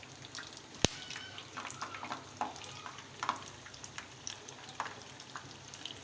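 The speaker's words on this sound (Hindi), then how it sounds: "सबसे तेल डाले हल्के से चिमटे से फ्राई कर लेंगे" Egg-coated chicken boti pieces frying in oil, a quiet continuous crackling sizzle dotted with small pops and one sharp click of tongs.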